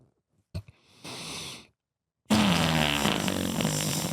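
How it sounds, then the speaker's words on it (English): A wet, sputtering fart begins with a short pop and a brief hiss, then after a pause breaks into a long, loud, bubbly blast that runs to the end. "Nothing like a shart noise"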